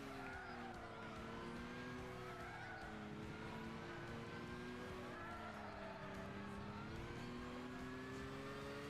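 Race car engine in Gran Turismo 6 at Suzuka Circuit, revving and accelerating through corners in sustained rising and falling tones, quiet and continuous throughout.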